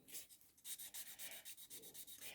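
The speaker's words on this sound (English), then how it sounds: "Now when you're sanding, when it comes to the point of where you've almost finished sanding" Milliput filler on porcelain being sanded by hand with a small piece of 800 grit sandpaper, a quiet, rhythmic back-and-forth scratching in quick repeated strokes, close and alone.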